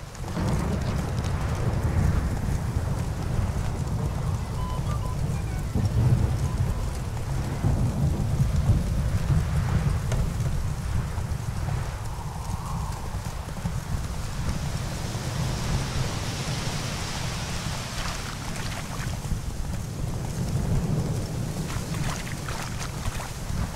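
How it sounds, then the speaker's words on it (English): A thunderstorm rolls through The Witcher 3, with deep rumbling thunder and a lightning strike over steady heavy rain, a continuous loud wash of low rumble and hiss that swells and eases over about twenty seconds. "Lightning strike."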